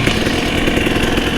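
Two-stroke TX300i motorcycle engine running loud and close, a dense continuous buzzing roar with rapid firing pulses, no voices.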